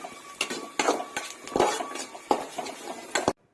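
Egg roast stirred in a pan with a spoon, giving a series of sharp metallic clinks and scrapes at irregular intervals, close and fairly loud, with no talking.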